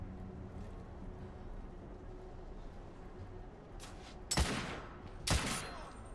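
Two loud, sharp gunshots from the video game The Order: 1886 ring out in quick succession near the end, over a quiet low background.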